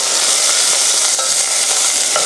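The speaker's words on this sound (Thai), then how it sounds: "ขูดเลยนะครับขูดก้นหม้อเลย" A spoon scrapes the bottom of a pot, stirring garlic stalks, celery and carrots for gravy, a continuous loud rasping with faint sizzling beneath, close up.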